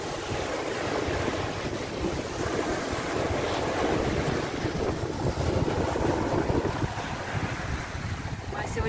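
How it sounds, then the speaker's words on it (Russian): Steady roar of sea surf on a very windy day, heavy wind buffeting the microphone, continuous and loud throughout, no voices. "Сегодня у нас ветрено, волны, очень ветрено"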